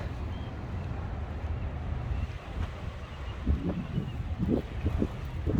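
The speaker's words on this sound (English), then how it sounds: "you need two hands to hold the umbrella with the wind taking it all directions" Strong gusty wind on a rainy day along the River Thames at the Southbank in London, a constant rumbling roar buffeting the microphone, with low thumps building toward the end.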